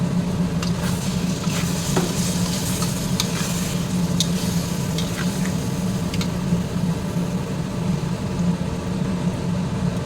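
Spice paste sizzles and fries steadily in a hot pan, a continuous crackling hiss with scattered sharp pops and faint stirring scrapes, close and without talk.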